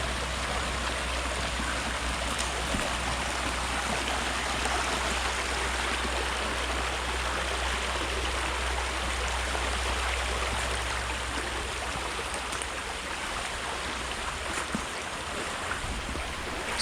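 Steady rushing of a shallow river flowing around a bend, continuous and fairly close, with no voices.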